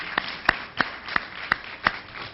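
A handful of sharp, separate hand claps from an audience at a Morehouse College event, spaced irregularly and fairly faint, with no continuous swell of applause.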